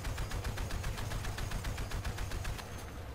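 Battlefield Play4Free gunfire, a fast regular automatic burst of shots repeating steadily without a break at moderate, slightly distant loudness.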